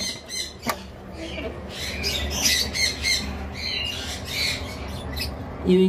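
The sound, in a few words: lovebirds squawking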